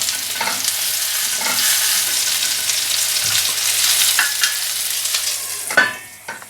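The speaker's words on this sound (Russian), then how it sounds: "Накрываем крышкой и обжариваем нижнюю сторону котлет." Mushroom and rice cutlets fry in a covered pan, a continuous dense sizzle with a few soft clinks and a final louder clatter near the end, close and uninterrupted by talk.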